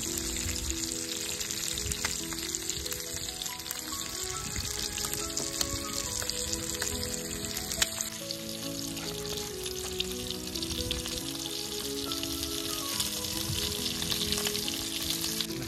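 Chicken tandoori frying in Amul butter outdoors in a forest, a steady loud sizzle with crackling pops running throughout, broadening into a denser hiss about halfway through.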